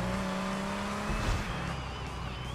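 A motocross bike races in the GTA Vice City video game, its engine whining and shifting pitch with tire noise, a continuous loud game soundtrack.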